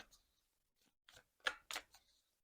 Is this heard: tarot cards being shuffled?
yes